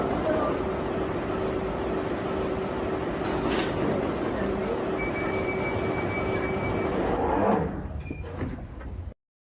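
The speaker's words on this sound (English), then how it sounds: "Mind the gap between the train and the platform." A London Underground train pulls into a platform, a steady rumbling rail roar with a faint tonal whine building toward the end, then a hiss as the train stops before the sound cuts off abruptly.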